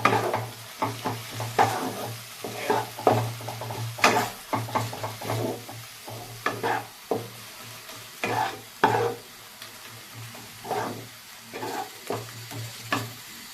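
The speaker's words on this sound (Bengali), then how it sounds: "আর মশলাটাকেও আমি কিছুক্ষণ ভেজে নেব, 1-2 মিনিট ভাজলেই হবে" Salt, coriander powder and other spices frying in a pan for a spinach bharta, with a continuous sizzle under regular scraping stir strokes, close and steady, and a low hum in the background.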